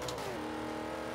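A GMC van's engine revs hard toward redline in the racing game Forza 5, a steady, loud mechanical drone with no speech over it.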